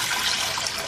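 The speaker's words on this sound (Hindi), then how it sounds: "इसमें सबसे पहले पानी शामिल कर लें" Water pours steadily into a pressure cooker set over a medium-high flame, a close, continuous splashing trickle lasting under a second.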